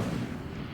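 In Hogwarts Legacy, an Incendio fire spell goes off as a short, heavy, booming whoosh of flame that lasts under a second.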